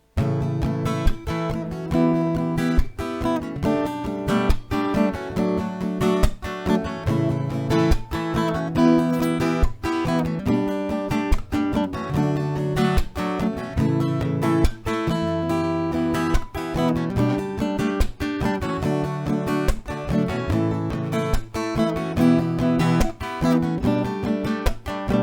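Continuous acoustic guitar strumming of a song, full chords hit in a steady even rhythm, one strumming round per chord, close and fairly loud with no voices.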